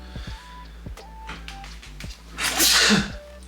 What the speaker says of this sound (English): Big old sneeze.